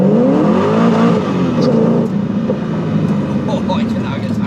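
A Ford GT with a Ford Performance exhaust system revs up loudly and close by, a throaty roar swelling and then easing back to a rumbling idle, with faint voices over it.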